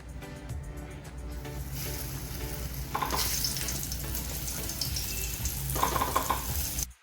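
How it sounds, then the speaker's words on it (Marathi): Prawns frying in hot oil over medium heat for a spicy, crispy Agri-style prawn fry, a continuous close sizzle that swells midway, with brief scraping and watery splashes. "ही कोळंबी आपण मीडियम गॅसवरती फ्राय करतोय"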